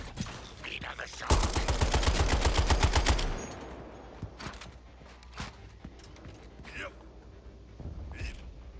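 Rapid automatic gunfire rips out in a dense, loud burst lasting about two seconds during a Suicide Squad: Kill the Justice League battle, followed by scattered sharper shots and effects while voices talk over the action.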